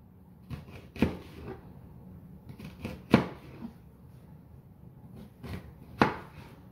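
A knife slicing through an onion on a cutting board, a handful of separate sharp taps at an uneven pace, close and fairly quiet with nothing else around.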